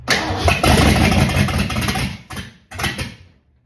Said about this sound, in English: We have a live engine now.